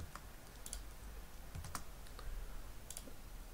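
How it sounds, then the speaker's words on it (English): Steady fast typing on a computer keyboard while entering code imports, quiet close-up key clicks in a continuous run with a few louder strokes. "And just type all the imports now so you don't have to do this manually afterwards."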